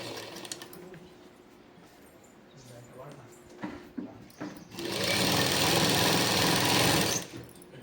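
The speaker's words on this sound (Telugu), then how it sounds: "మళ్ళీ ఇక్కడ నుంచి కుట్టు స్టార్ట్ చేసుకోవాలి మనం" A sewing machine stitching a Punjabi dress, someone talking over faint handling noise before the motor kicks in for a loud, steady whirring run of stitches, then stops.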